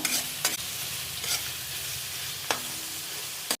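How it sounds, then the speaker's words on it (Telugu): Chopped onions fry and get stirred in hot oil, giving a steady soft sizzle broken by a few sharp scraping strokes of the spoon against the pan, with no talking. "ఆయిల్ వేడయ్యాక ఒక నాలుగు ఉల్లిపాయలు చిన్నగా కోసుకున్నవి అయితే ఉల్లిపాయలు వేసేసుకున్నాము ఉల్లిపాయలు ఒక మంచి రంగు వచ్చే వరకు బాగా కలుపుకుంటున్నాము"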